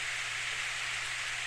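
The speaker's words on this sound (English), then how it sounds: "Hey, it's raining." A steady hiss of an evening rain shower from the video game Steins;Gate, even and continuous with no other sounds standing out.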